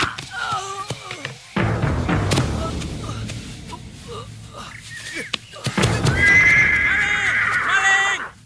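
A horse neighs loudly in a scene from an Indonesian drama, whinnies rising at the start and again near the end, with hoof thuds and people's voices between them.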